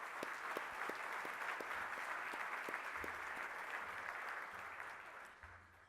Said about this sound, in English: So please give a round of applause for their hard work.